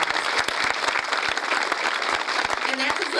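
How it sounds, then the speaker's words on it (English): Applause from the crowd at the Cape Hope opening ceremony, steady and fairly loud throughout, with scattered sharper claps standing out near the end. "let's give them a round of applause"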